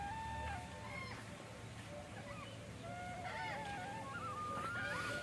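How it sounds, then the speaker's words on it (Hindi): Faint birds, including parrots and peacocks, call and chirp intermittently at a cow shelter over a quiet background hum, several overlapping calls scattered across the scene. "यहाँ पर बहुत ज़्यादा पक्षियों की चहचहाने की आवाज़ सुनाई देगी"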